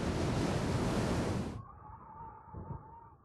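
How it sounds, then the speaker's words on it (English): Storm waves from open ocean off Hawaii crash in a loud, broad roar of surf that cuts off abruptly, leaving a quieter low rumble and a faint tonal hum. "With thousands of miles of empty ocean, nothing stops the storm waves."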